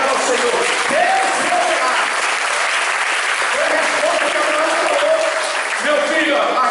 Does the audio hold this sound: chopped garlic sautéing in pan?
no